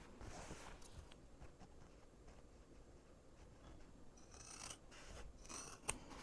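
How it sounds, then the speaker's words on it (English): Scissors snip close at embroidery thread, a few faint, crisp cuts toward the end over a quiet room hiss, with light handling rustle before them. "I'm just gonna trim it down as close as I can to my thread without cutting my thread"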